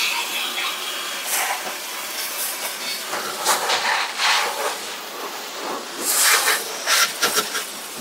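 Water spraying onto a Toyota Vios engine during an engine wash, a broad hissing spray that surges and fades in bursts, loud and close, with no talking.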